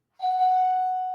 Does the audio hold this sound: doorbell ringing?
yes